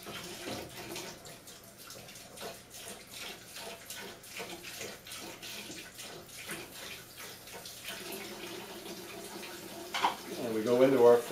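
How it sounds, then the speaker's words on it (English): Water splashes and sloshes in short bursts as a part is swished around in a water rinse during electroplating preparation, with a voice talking quietly underneath and louder splashing at the end. "we're going to go into the water rinse"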